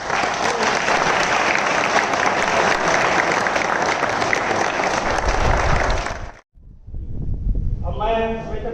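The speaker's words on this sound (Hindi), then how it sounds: "कुछ जोरदार तालियों में स्वागत करना है" An audience at a workers' safety day event gives loud, sustained applause for about six seconds. It stops abruptly, and a voice then speaks.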